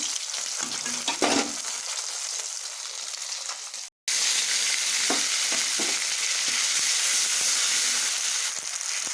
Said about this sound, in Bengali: মাছের মুড়োটা আমি ভেজে নিচ্ছি।